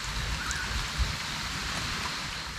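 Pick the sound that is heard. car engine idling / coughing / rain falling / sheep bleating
rain falling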